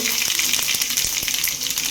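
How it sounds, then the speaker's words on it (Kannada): Mustard seeds and garlic sizzle in hot oil for a tempering for a ridge gourd and lentil saaru, giving a continuous bright crackling hiss with a few sharp pops, close and steady throughout. "ಒಗ್ಗರಣೆ ಹಾಕೋಣ ಇದಕ್ಕೆ ಎಣ್ಣೆ ಎಣ್ಣೆ ಸಾಸಿವೆ"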